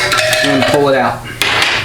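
Pliers scrape and clank against metal parts inside a 700R4 automatic transmission, producing a brief close cluster of ringing metallic knocks and scrapes.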